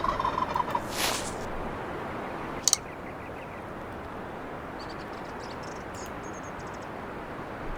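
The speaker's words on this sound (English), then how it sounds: "You can tell the other one was a Jake just from the way he was gobbling." Wild turkeys gobble in a hunting video game, with a loud rattling gobble near the start and fainter distant gobbles later over a steady outdoor ambient hiss.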